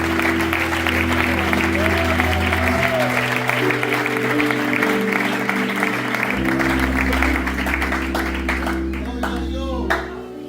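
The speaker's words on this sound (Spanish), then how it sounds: "Si tú lo crees, dar un aplauso a esa victoria." A church congregation applauding a victory declared in a sermon, sustained clapping spread across the room for several seconds with a voice and low music continuing beneath it, fading slightly near the end.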